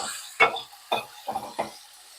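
Tomatoes and green chillies cooking in a pan, stirred with four distinct scraping, knocking strokes spaced out over faint sizzling; close and moderately quiet.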